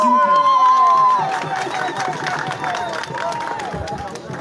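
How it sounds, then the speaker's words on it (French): Crowd at a political rally in Tokombéré cheering and clapping, a loud mixed roar of voices and shouts after a voice calls out, with busy, continuous crowd noise throughout. "Applaudissez s'il vous plaît."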